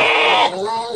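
Sheep bleating in a large livestock pen, one loud close wavering bleat lasting about a second, overlapping with a speaking voice.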